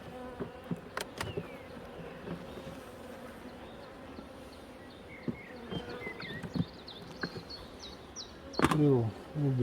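Honey bees buzz around an opened, weak single-queen hive holding some honey, a steady insect drone with scattered passes of individual bees, outdoors with a few knocks and a louder burst near the end.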